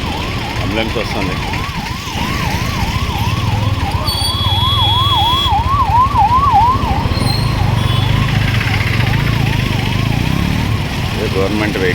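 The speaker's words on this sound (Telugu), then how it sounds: "అంబులెన్స్ వస్తుంది." An ambulance siren wails in a steady rising-and-falling pattern on a street in Miryalaguda, loud and close over heavy traffic rumble and a high beeping horn, with a voice talking now and then.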